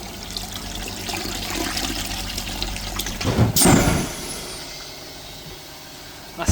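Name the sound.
water flushing through Peugeot Boxer DPF exhaust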